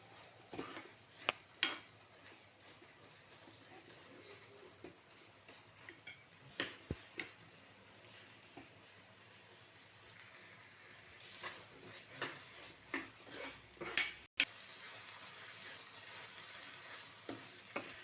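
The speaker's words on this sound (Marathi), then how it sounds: "आता हे भोपळा चांगला शिजलेलं आहे त्याचं असं घट्ट मिश्रण करायचं एकदम" Thick cooked pumpkin mixture stirred in a pan for a sweet fasting-style pumpkin fudge, giving soft scraping and faint sizzling with scattered light clicks of the spoon against the pan, steady and close with no talk.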